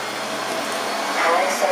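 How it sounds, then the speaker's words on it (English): A PREMBOT P3 robot vacuum cleaner runs at moderate suction, a constant close whir and hiss that swells slightly near the end, with a voice briefly present over the motor. "Moderate suction."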